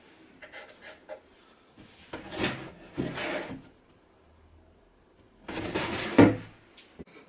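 A wooden drawer in a solid pine tool chest, built from salvaged materials, slides out with scraping wooden knocks and catches, in two bursts of rubbing with a sharp thud at the end of the second, close and moderately loud.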